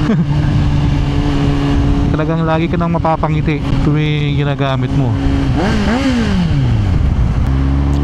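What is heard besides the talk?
Kawasaki Z900 inline-four motorcycle revving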